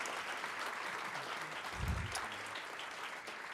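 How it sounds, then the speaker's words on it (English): Steady applause from a mayoral candidates forum audience fills the whole stretch, a dense wash of clapping at moderate volume, with a brief low thump partway through. "a big round of applause for everybody answering the library question today"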